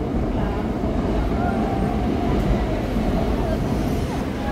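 A Manila MRT train passes along the elevated line in the Recto area of Quiapo, producing a steady, loud mechanical rumble that holds for the whole stretch of street ambience.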